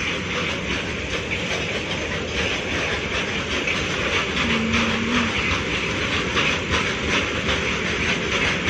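A train rolls past nearby in a steady, loud rumble with rhythmic clattering of wheels on rail joints and a hissing wash of noise, continuous throughout without any voices.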